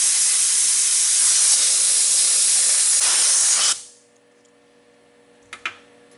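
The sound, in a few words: TIG welding a stainless steel star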